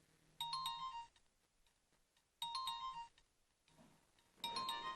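A telephone rings three times in evenly spaced electronic bursts, each a bright chiming trill about half a second to a second long, loud and close with quiet gaps between, during an Arabic-language sitcom scene.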